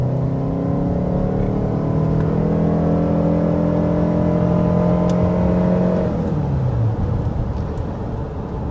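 A 2025 Toyota Sienna Platinum hybrid minivan with all-wheel drive pulls away, its e-CVT giving a steady layered whine and engine drone that climbs smoothly, then falls and settles near the end.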